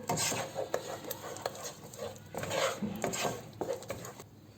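A spoon scrapes and stirs steadily through sugar melting in a pan for almond halwa over a medium to low flame, making a continuous close rubbing and scraping sound with small clinks.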